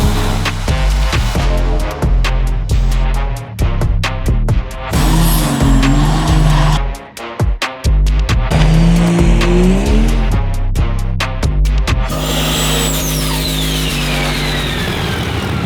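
Diesel race trucks at Lucas Oil in Indianapolis, engines roaring loudly and continuously close by, with revving, tire squeal and skidding as trucks pass and accelerate.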